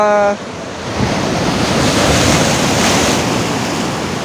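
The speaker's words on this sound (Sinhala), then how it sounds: "සැඩ රළ පාරවල් එක්ක තමයි මෙතන ඒ තරම් සරයි." Rough sea waves crash and churn at the Kalutara river mouth in Sri Lanka, a loud, steady roar of surf with heavy wind buffeting the microphone.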